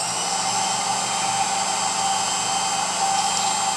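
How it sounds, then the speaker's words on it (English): Polishing wheel loaded with stainless steel polishing rouge spinning at speed, a steady bright whine and hiss held for a few seconds, close and loud with no talking. "some stainless steel polishing rouge, which is what I've been using for years. Get that baby going."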